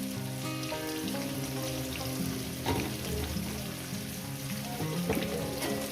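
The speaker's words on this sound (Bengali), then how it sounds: "এই আলু কলা ভাজতে ভাজতেই আমি হলুদটা দিয়ে দেবো হলুদটা দিয়ে ভাজবো" Plantain and potato pieces fry with turmeric in a pan over medium heat, a steady crackling sizzle that runs throughout under a faint tonal background hum, with a few louder spits from stirring.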